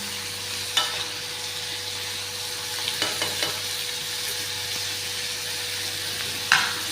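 Onions frying in a pan for bitter gourd curry, a steady low sizzle with occasional stirring scrapes and clinks, close and continuous with no talk.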